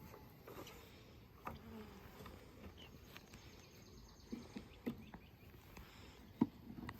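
Buzzing of a small honeybee swarm, a low steady hum close by with a few sharper knocks and clicks scattered through it, no talking.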